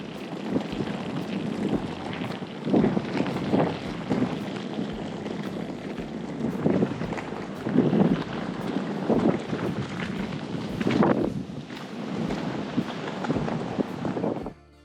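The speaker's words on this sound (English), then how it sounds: "This part of the island gets quite windy" Strong, steady wind roars and buffets the microphone throughout on Ikaria island, Greece, with gusty surges and no voices.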